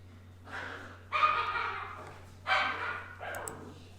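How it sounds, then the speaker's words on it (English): A pet dog barking while playing, a few separate loud yips and barks at about one-second gaps, a little distant and indoors, over a steady low electrical hum. "It's my dog being an idiot."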